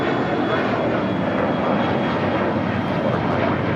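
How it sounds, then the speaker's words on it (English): A Spirit Airlines Airbus A320neo jet arriving at LAX from Atlanta, a steady, loud broadband engine roar that holds evenly throughout with no talk over it. "Spirit Airlines Flight 1829 coming from Atlanta, Georgia, in an A320 Neo."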